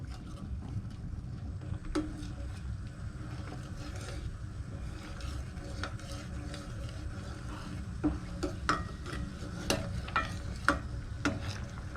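Curry paste being stirred and fried in coconut milk for a Thai egg curry with chaphlu leaves and crab sticks, a steady low sizzle with scattered clicks and scrapes of the spoon against the pan.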